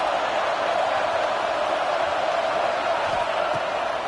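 Stadium crowd noise in a college football video game during a big third down, a steady, fairly loud roar of cheering that stays constant throughout without breaks, with no distinct voices standing out.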